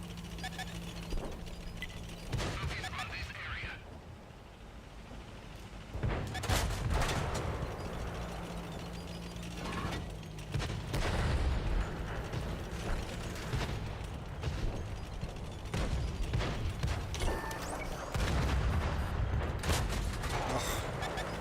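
Tank gunfire in the World of Tanks video game comes as heavy booming shots and rumbling engine noise, dense and continuous over about twenty seconds, with a voice talking underneath.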